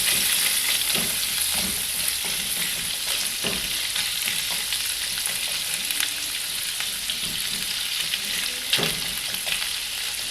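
Carrots and garlic fry in a pan, giving a continuous even sizzle with occasional soft stirring scrapes. The sound is close and steady, with no talk.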